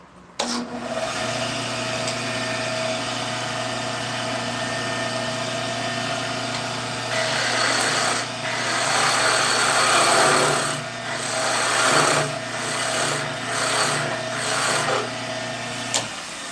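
A skew chisel smooths a wooden dowel spinning on a lathe, the motor humming steadily while the blade's scraping hiss rises and falls in several bursts of cutting, close and moderately loud.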